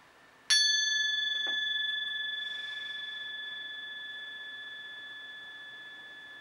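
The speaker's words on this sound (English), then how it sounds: "I'm gonna do the gong" A single struck gong rings out with a bright metallic strike and a long, steady, sustained tone that fades slowly, heard alone.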